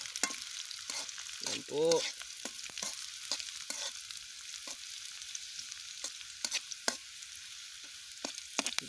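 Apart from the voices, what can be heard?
onion and garlic frying in a pan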